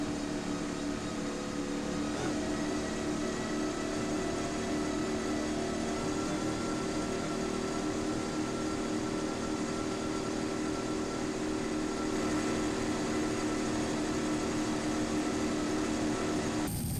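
An offshore racing powerboat with twin Whipple-supercharged engines making 1,500 horsepower each, heard racing off St. Petersburg as a steady, dense, unbroken engine roar that holds at the same loudness throughout.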